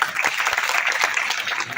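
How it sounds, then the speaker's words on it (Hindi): Brief burst of audience applause at a book launch at a press club, many hands clapping at once in a steady patter, fairly loud and close. "और आपकी तालियों में कमी है।"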